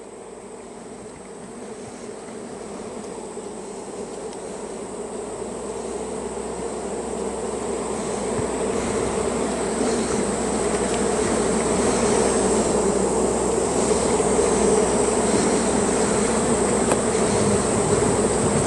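A steady, dense hum of many honey bees buzzing around a hive in a bee yard, growing gradually louder and fuller over the span, with no voices.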